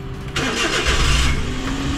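A mini camper van's engine cranks and catches on its first start of the day, then settles into a steady, close idle rumble with no talking.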